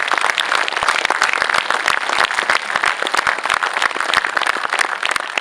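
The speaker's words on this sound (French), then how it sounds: "Je pense qu'on peut applaudir Michel Lemoine pour tout ce qu'il a fait." An audience at a club season presentation applauds steadily, dense hand claps from a sizeable crowd filling the room at an even, loud level from start to finish.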